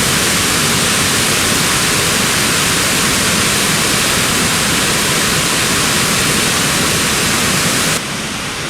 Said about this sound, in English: Beautiful, it's like a glacial falls.